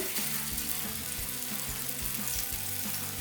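Beef shami kababs fry in hot oil in a pan, giving a steady, close, crackling sizzle with small bursts of popping throughout and no voices.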